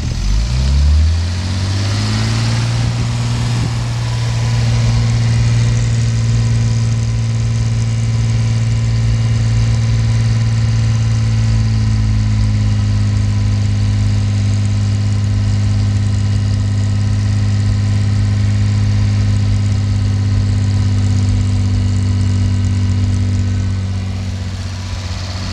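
Mercedes 280SL engine idling with a strong, steady low rumble, its pitch climbing briefly at the start before settling into a long even drone that fades near the end, no voices.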